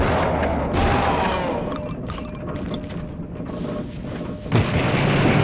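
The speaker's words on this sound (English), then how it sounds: "Tesla cannon." Dense rumbling bursts and booming blasts from the Tesla cannon in the video game Blood: Fresh Supply, with a sharp crack near the end, all over constant noisy game background.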